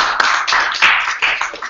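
A small meetup audience applauding, a brief burst of close, uneven clapping lasting under two seconds.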